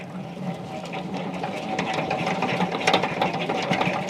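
A honey extractor being spun by hand to draw out neem or moringa honey, giving a steady whirring, rattling mechanical drone that grows slightly louder and clatters toward the end.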